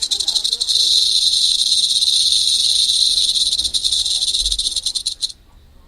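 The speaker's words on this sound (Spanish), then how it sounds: "Y esta es la real serpiente de cascabel." A rattlesnake's rattle buzzes in a continuous, loud, even hiss for about five seconds before it cuts off abruptly, leaving quiet background.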